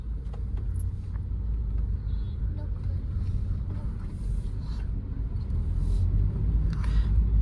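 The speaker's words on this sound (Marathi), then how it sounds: "मगाचपासून अर्धा तास झाला आम्ही फर्स्ट गिअरवरच चालवतोय" A car crawls in first gear through slow, congested traffic on the NH66 highway, heard from inside as a steady low engine and road rumble that swells slightly toward the end, with voices talking over it.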